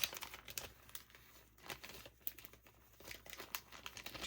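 Cellophane bags crinkle and rustle up close in bursts of crisp crackling, irregular handling noises that rise and fall with no talk.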